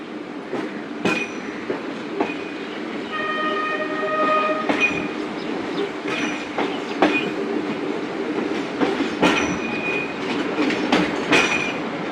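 A Musapak shuttle passenger train runs on the Multan to Dera Ghazi Khan line with a steady rolling rumble and rattle. Repeated wheel clicks and clanks come through, and brief tonal squeals or horn-like notes appear partway through.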